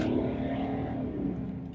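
A turbocharged BMW E39 engine pulls hard under sustained load, a steady low roar with rising turbo whine, loud and close, no talking.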